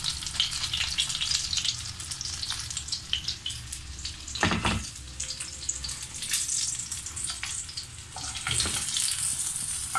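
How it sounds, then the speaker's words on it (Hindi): Pomfret fish frying in hot oil in a pan, a steady dense sizzle with crackling bursts and a few louder spatters, close and continuous with no talk. "दोनों तरफ से ना अच्छे से फ्राई हो गई है।"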